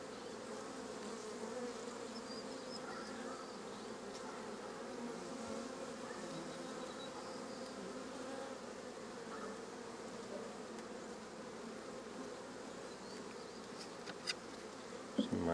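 Honey bees swarm an open hive under inspection, a dense, steady buzzing drone filling the whole stretch with no talk, holding an even level until a few handling knocks near the end.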